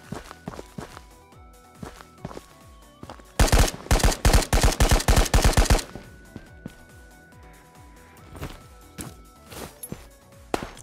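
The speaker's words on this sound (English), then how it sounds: "He's panic firing a little bit." Automatic gunfire in a Warzone-style shooter game: a loud burst of rapid, evenly spaced shots in the middle, surrounded by quieter footsteps, clanks and scattered game noise, with no talking.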